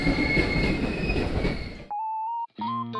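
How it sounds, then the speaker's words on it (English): A JR local train bound for Namba pulls into track 2 at a station, a loud rumble of wheels on rail for nearly two seconds, then a steady electronic chime tone and a short station melody of clear notes. "At the same time as the Kintetsu train arrives, a JR local train bound for Namba arrives at track 2."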